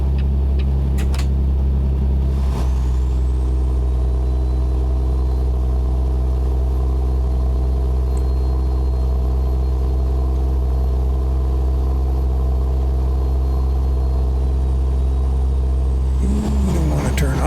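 A truck engine in American Truck Simulator labours up a grade with a loud, steady low rumble and a drone that holds throughout. A brief clatter comes near the end.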